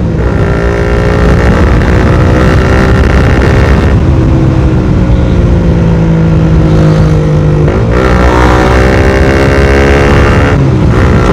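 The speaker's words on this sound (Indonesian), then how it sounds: "kalau kita pakai DB Killer ini suaranya adem banget, guys" A Honda CBR150R with a Daytona GP Taper racing exhaust and dB killer revs repeatedly, its muffled, deep drone climbing and dropping in pitch between throttle blips, close and continuous.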